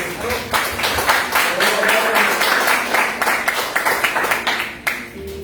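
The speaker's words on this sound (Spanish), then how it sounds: "Así que un aplauso para ellos." A church congregation claps for visiting guests, a loose run of distinct hand claps with a slightly uneven rhythm, fairly close and moderately loud, tapering off after about five seconds.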